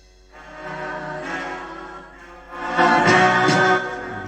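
A music track from a vinyl album plays loudly through an old Hacker Cavalier GP15 record player, a short full-bodied burst of sustained tonal music that swells louder midway.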